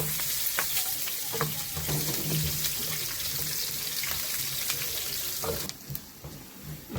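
Ginger, garlic, green chilies and shallots frying in hot coconut oil with mustard seeds, a dense crackling sizzle with scattered pops and stirring scrapes, close and steady, dropping briefly quieter near the end.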